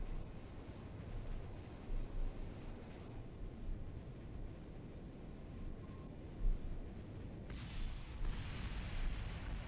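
In the game Kerbal Space Program, a rocket blows up with a low, rumbling explosion at moderate level, followed by a brighter burst of crackling debris near the end.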